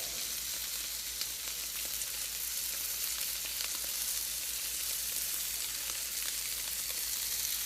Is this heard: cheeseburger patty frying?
yes